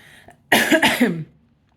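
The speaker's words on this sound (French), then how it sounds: "je continue à bien tousser" One harsh, close cough, short and loud, follows a small throat noise, then quiet.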